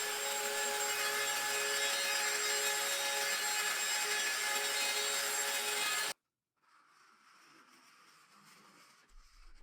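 A saw cross-cuts edge-banded cabinet panels, giving a loud, steady, high-pitched whine for about six seconds before it stops abruptly, leaving faint background hiss.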